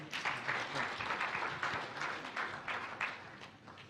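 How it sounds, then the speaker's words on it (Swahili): Applause from an audience at a Tanzanian World Press Freedom Day event attended by President Samia Suluhu Hassan, a steady, moderately distant wash of many hands clapping that holds for the whole stretch and eases slightly at the end. "Makofi tafadhali."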